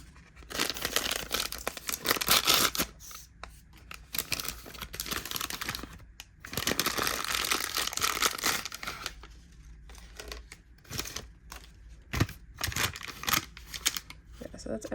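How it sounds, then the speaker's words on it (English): Plastic packaging for a Draculaura Monster High doll is crinkled and torn open in bursts of rustling and crackling, close and busy, broken by brief pauses, with someone speaking quietly at points. "And now I'm gonna open the second bag."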